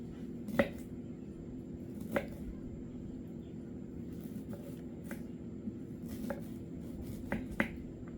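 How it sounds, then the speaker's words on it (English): Quiet, sparse knife strikes on a cutting board as ginger is cut in a jungle kitchen in Belize, a handful of crisp taps spaced irregularly over a faint steady background hum. "Cut the ginger."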